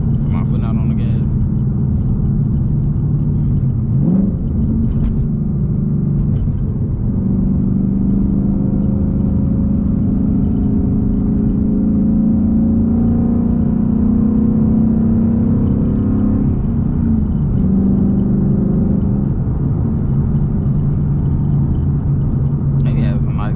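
Ford Mustang GT coasting and cruising along back roads, a loud, steady low engine and road rumble from inside the car, with someone talking over it throughout.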